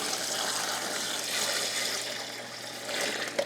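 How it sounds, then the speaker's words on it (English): Brine poured from a container into a bag holding a whole turkey, making a steady, close rushing splash of liquid that runs for a few seconds without pause. "I'm gonna pour the brine that we made"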